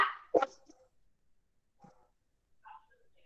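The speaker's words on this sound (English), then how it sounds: "He enjoy himself barking for some time before he stops" A dog gives a sharp bark, then a couple of fainter, scattered yips and whimpers follow with quiet gaps between them.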